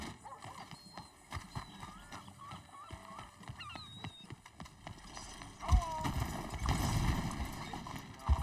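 Horse hooves clip-clop in Red Dead Redemption 2, a steady trot up close with a horse whinnying partway through and some game voices layered in, growing louder and busier toward the end.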